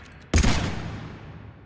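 A single loud sniper rifle shot from Mass Effect 3, a sharp broadband crack followed by a long, gradually fading echoing tail, with no talk over it.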